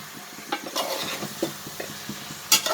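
Dried cod pieces sauté in a pan for a dried fish curry, giving soft sizzling with scattered scraping stirs and light clinks of the spatula, close and fairly quiet, with no voices.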